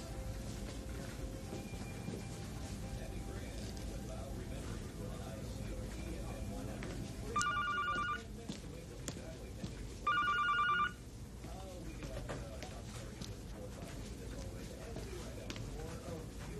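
A telephone rings twice in short bursts, each trilling for under a second, under continuous conversation and room noise in a 1994 Taipei drama.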